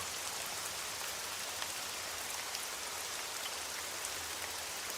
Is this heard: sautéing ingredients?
no